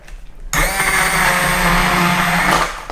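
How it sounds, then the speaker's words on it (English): Immersion blender whirring through hot pumpkin soup, starting abruptly after a moment of quiet and running as a loud, steady motor whine with a churning edge for a couple of seconds before easing off. "So I have my trusty immersion blender."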